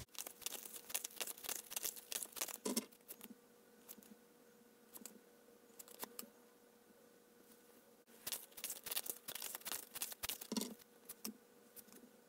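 Tarot cards shuffled by hand come in two bursts of quick, papery riffling and flicking, near and moderately loud, with a quieter pause between them and no talking.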